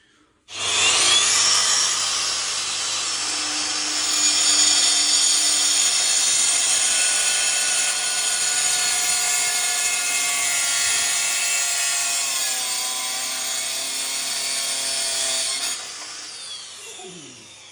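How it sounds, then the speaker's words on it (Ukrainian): Dull, metal-glazed diamond cutting disc grinding through porcelain stoneware tile, a loud steady high-pitched abrasive whine with harsh rubbing texture, running continuously for about fifteen seconds before cutting off. "Зараз покажу, як затуплений круг ріже керамограніт."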